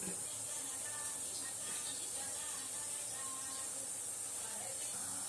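A steamer full of idli gives off a steady, even hiss of escaping steam from start to finish, constant and fairly faint.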